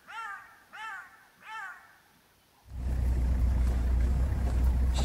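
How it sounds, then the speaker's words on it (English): Three rising, wailing yelps from black-backed jackals calling out in the bush, then a steady off-road safari vehicle engine rumble takes over and drowns the calls. "You can hear them, blackback jackals, usually a good sign that a predator's nearby."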